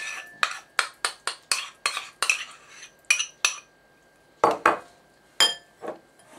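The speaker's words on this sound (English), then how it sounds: "what I need is to mix together the ricotta" Ricotta and fromage frais being stirred together in a bowl, a spoon clinking and scraping against the sides in quick irregular strokes with short pauses, close and clear.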